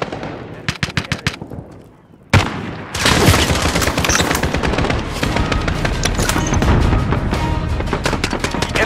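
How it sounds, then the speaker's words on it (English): An enemy sentry gun in Call of Duty Modern Warfare (2019) on a hardcore bridge map fires bursts of rapid automatic shots, a few separate cracks first, then a brief lull and a loud, dense, sustained barrage close by. "Enemy sentry gun active."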